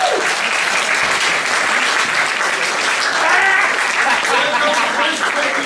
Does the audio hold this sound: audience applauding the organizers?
yes